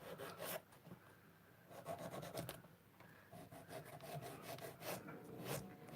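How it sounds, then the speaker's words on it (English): A nail file rasps back and forth against a practice nail to take off excess length, a soft, close, rhythmic scraping that comes in short strokes with brief pauses between them. "So what I'm going to do is you just shape the nail and file any excess off."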